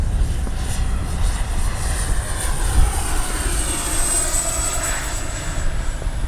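An XFLY F-35 RC jet on a maiden speed trial flies at full speed into the wind, its electric ducted-fan whine a steady, loud, continuous rush, with a high tone that shifts in pitch as it passes over wind noise, and no talking.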